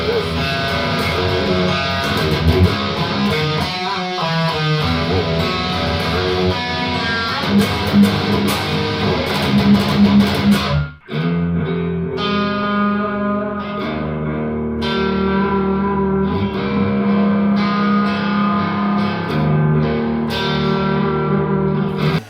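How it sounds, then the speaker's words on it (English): Electric guitar with a high-output single coil pickup plays a bright, twangy line, loud and continuous with a sustained ringing tone and a brief break midway. "It's a very high output and had this twangy sound, single coil sound."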